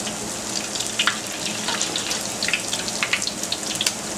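An egg foo young patty fries in hot oil, giving a steady close hiss with scattered sharp crackles and pops throughout, no voices.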